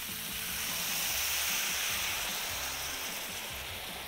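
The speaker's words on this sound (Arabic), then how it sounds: "ودلوقتي هاخد سنه ميه نعمل الديجليزنج اللي قلنا عليه" Water poured into a hot pan of browned chicken, mushrooms and onion to deglaze it gives a broad, steady sizzling rush that holds for about four seconds, close and loud with no voices.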